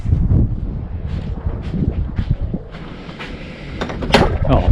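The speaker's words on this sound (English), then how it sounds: "Oh man, it is windy out here" Strong wind blows at a shoreline during a very low tide. It buffets the microphone in a continuous low rumble, with gusts and a few faint knocks.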